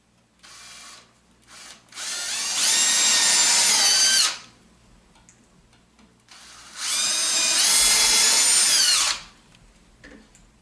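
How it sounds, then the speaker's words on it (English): A power drill with a 1/8 inch bit bores into wood in two loud, close bursts of whining, grinding noise, each lasting a couple of seconds, with a quiet pause between. "and then I'm drilling straight in"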